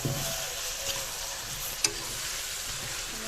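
Meat with chunks of potato and pumpkin sizzling in hot oil in a pan while being stirred, a steady close frying hiss with a brief scrape of the spoon partway through.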